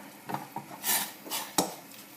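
A lid goes onto a metal cooking pot of lentil and beef soup, several light clanks and rattles in quick succession, close and clear with no talking.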